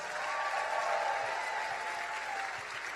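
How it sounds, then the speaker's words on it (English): Rally audience in Atlanta applauding, a dense, steady wash of many hands clapping at moderate distance, sustained evenly throughout with no voices on top. "Now I want y'all to give yourselves a round of applause"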